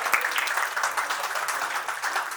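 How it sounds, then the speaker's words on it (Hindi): Audience applause at a success celebration for a computer academy as a guest and his wife are welcomed onto the stage, a steady, dense clapping that stays even for a couple of seconds. "जोरदार तालियों के साथ इनका स्वागत किया जाए।"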